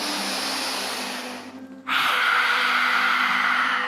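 A deep breath drawn in during a yoga breathing exercise, one loud, close, airy inhalation that fades briefly and then swells into a strong sustained rush of breath, with no talking.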